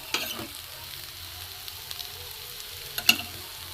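Stale roti fries with a little oil in a covered pan, a soft continuous sizzle with occasional small pops and a sharper crackle near the end, close and alone.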